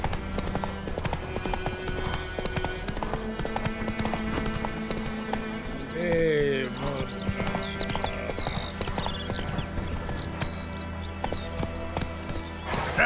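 Horse Roach trotting in The Witcher 3, hooves clip-clopping in a steady, continuous rhythm throughout, with a brief whinny midway and game music and ambience underneath.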